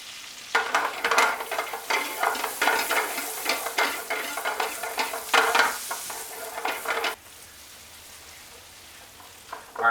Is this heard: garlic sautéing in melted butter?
yes